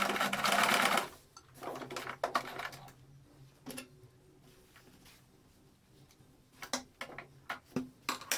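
A sewing machine stitching fabric for a multi-pocket purse, first in a short loud run, then in softer intermittent bursts mixed with ticking clicks and handling noises.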